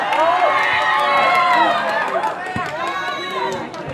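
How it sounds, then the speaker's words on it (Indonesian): A large indoor crowd at a volleyball semi-final roars and cheers loudly and continuously, many voices shouting together, swelling then easing slightly toward the end. "Langsung mendapat sorakan gegap gempita"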